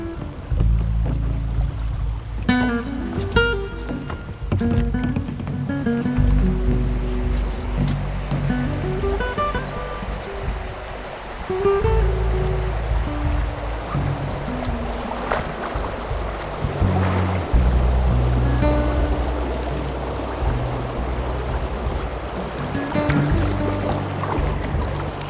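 Shallow rocky rapids on the St. Croix River rush and gurgle around a kayak being pulled through, with scraping and knocking of the hull on stones, close and continuous for about twenty-five seconds.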